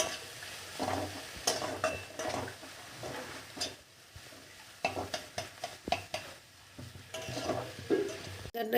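Cauliflower paratha filling is stirred and mixed in a hot pan, a busy scraping and clattering of spatula against metal with soft sizzling, coming in bursts and pauses, close up and without talk.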